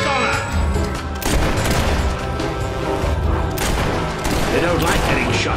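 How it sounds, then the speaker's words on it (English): Bursts of gunfire in a Fable 3 battle, loud and close, with rapid volleys and booming impacts repeating over several seconds, mixed with other game sound and voices. "They don't like getting shot at, do they?"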